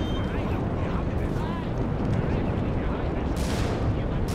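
Heavy, continuous gunfire fills the survival horror game Alien: Isolation, a dense roar of shots and rumbling blasts, loud and close throughout, with muffled voices faintly underneath.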